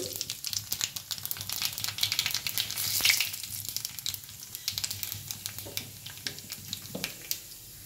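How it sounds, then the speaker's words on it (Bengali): Nigella seeds tempering in hot oil in a pan just emptied of fried potatoes, a steady close sizzle with a louder crackling burst near the middle and scattered pops throughout. "এবার দেব কালো জিরে ফোড়ন"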